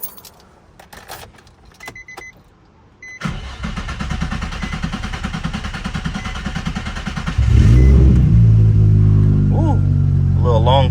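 A Nissan 350Z cranks for a few seconds on a long start, then fires and settles into a loud, rough idle. Light clinks and rustling come before the crank.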